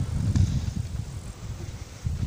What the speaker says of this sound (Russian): Ветер, зараза, блин.